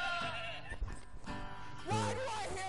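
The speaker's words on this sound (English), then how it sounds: "Why do I hear fucking sheep?" Sheep bleating with wavering, nasal cries, the loudest near the end, mixed with background chatter and game noise from the video game Sea of Thieves, in the Seafarer's Rest.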